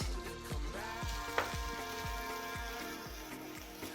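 Vegetables cook down and wilt in a hot pan with a steady, close sizzle, broken by soft rhythmic knocks roughly every half second.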